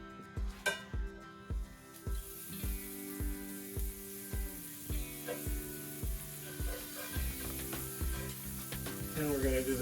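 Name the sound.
butter sizzling in a frying pan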